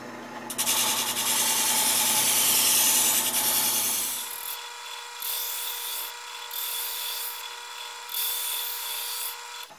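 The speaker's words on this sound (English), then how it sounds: "This is a very pliable disc, and it's made for sharpening virtually just about anything that you can figure out how to hold to run across there." A knife blade is sharpened against a spinning pliable sanding disc, opening with a loud, sustained abrasive rasp, then settling into a motor hum broken by several short grinding strokes.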